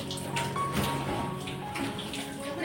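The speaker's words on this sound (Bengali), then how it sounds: "এবারে মুখটা ধুয়ে নিচ্ছি।" Face being washed under running tap water, a continuous close splashing and gurgling of water with small hand movements, brief and steady.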